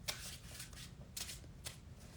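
Tarot cards shuffled in quick riffling bursts, three or four sharp papery flurries over a low room hum, close and fairly quiet.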